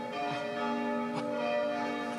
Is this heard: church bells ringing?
yes